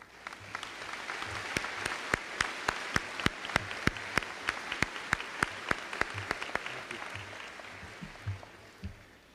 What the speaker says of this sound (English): Please join me in a round of applause as a thank you to Aaron Bockhorst.